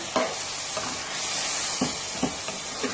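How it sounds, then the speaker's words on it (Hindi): Mashed potatoes are mixed into a frying masala for Lahori chikar cholay, a continuous sizzle broken by several soft scraping stirs of a spoon in the pan. "अब हम इसमें वो मैश आलू जो मैंने आपको बताए थे वो डाल लेने हैं अपने। इनको अच्छी तरह मिक्स कर दें"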